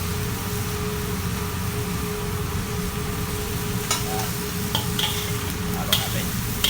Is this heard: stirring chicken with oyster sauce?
yes